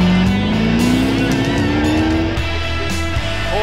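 A loud, close rally car engine revs steadily upward in pitch as it accelerates on a straight at the 2016 Silver Fern Rally, with a rough, buzzing exhaust note throughout.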